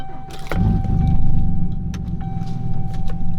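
A C10 pickup truck with a turbo tune runs at idle, a steady low engine drone with a faint whine, close and continuous, with a sharp thump or door knock early on, outdoors after rain.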